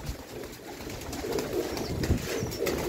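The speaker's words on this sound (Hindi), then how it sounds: "आ दोस्तों सलारा कबूतर है" Salara pigeons coo on a rooftop in a soft, low, throaty warble that repeats. Several soft coos sit over a steady ambient background, with no talking.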